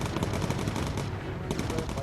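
Machine gun fire from bomber turrets in the video game Bomber Crew, rapid dense bursts of gunshots running steadily for about two seconds under the game's background noise.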